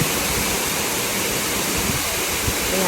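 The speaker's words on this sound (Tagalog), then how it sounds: "malakas na ang tubig guys kasi ang tubig doon sa baba" Strong rushing water pours down steadily at a small waterfall, a loud continuous roar that stays close and unbroken throughout with no voices.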